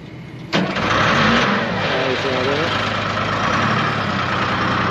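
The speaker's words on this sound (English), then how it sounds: "Detroit Diesel." A Detroit Diesel engine on a Rex smooth drum roller in Raymondville, Texas cranks and catches about half a second in, then settles into a loud, steady, close diesel idle that continues to the end.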